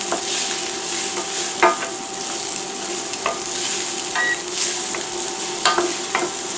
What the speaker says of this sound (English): Just going to give it a quick little stir around. Break up those onion pieces a little bit so they all get nice and cooked.